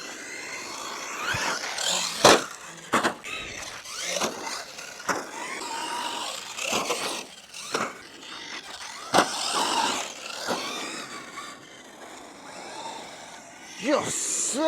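A Hobao Hyper SCT 2.0 3S RC short course truck is driven while bashing, its electric motor whining and surging in quick bursts with clattering impacts from jumps, under frequent excited talk.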